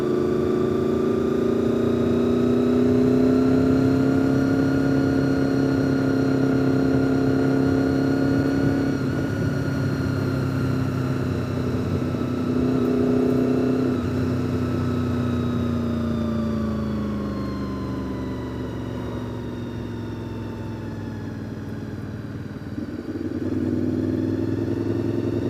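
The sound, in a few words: cars driving past with engines revving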